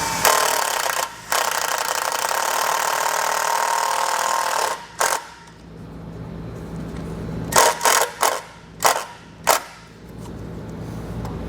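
A self-tapping screw is driven into sheet metal with a power driver, giving a long steady whirring run, a shorter burst, then a series of quick, close bursts as the screw seats tight.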